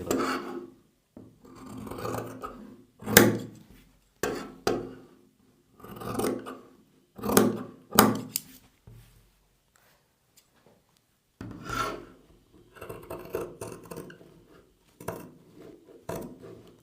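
Fabric being cut with scissors along a marked line for a sleeve, heard as several short bursts of crisp snipping and rasping strokes with pauses between, close and fairly clear, with no talking.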